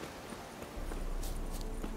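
A horse walks in The Witcher 3, its hooves clopping at a steady rhythm close by, growing slightly louder partway through over soft ambient game noise.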